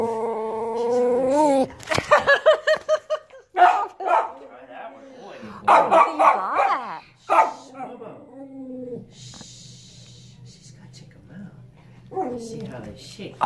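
Several dogs, including a husky and a puppy, play with new chew toys, giving yips, whimpers and short barks up close, mixed with shaking rustles while people talk over them.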